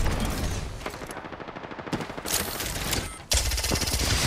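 Video game gunfire, presumably from a Valkyrie-themed shooter match, sounds as rapid automatic bursts close by, with a stretch of steady rattling fire, brief pauses, then more loud sustained shots.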